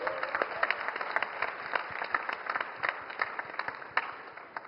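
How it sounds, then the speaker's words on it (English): An audience cheers on a composer-singer at a music event with a steady, dense burst of applause, many hands clapping together evenly throughout, fairly loud and close. "A big round of applause to him."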